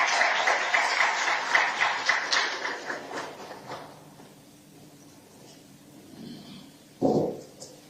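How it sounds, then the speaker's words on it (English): Audience at an African children's climate summit in Addis Ababa applauding, a dense round of clapping that thins out over several seconds, then a single loud thump. "Let's just give him a round of applause as he's coming to the front"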